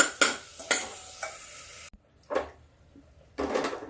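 Tomatoes and spices cooking in a pan over a low flame, with a few sharp clatters and stirring scrapes over a faint sizzle, separated by short quiet gaps.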